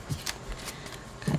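Scissors snip through paper for a scrapbook page, a few quick soft cuts close by in a quiet room.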